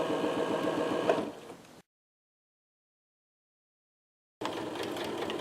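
A sewing machine stitches a seam up a shirt during an alteration as cloth is fed through, humming in two steady runs split by a sudden stretch of dead silence.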